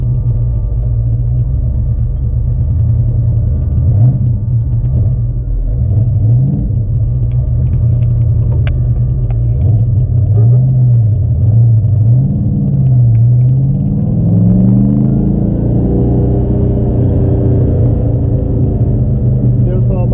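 A 1972 De Tomaso Pantera's engine rumbles steadily and loud while driving, with a deep low drone that rises and falls as it revs; a voice talks over it briefly.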